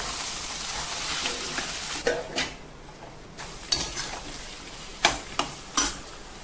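Onions sizzle steadily as they fry in a pan, with a spoon scraping and knocking against the metal several times near the mic.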